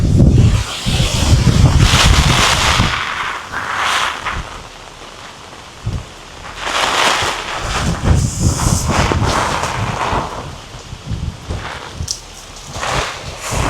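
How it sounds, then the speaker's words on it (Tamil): Strong storm wind sweeps through a banana plantation in Jaffna during heavy rain, buffeting the microphone in loud surging gusts that rise and fall with rushing noise, no voices. "காற்று வந்துடுது."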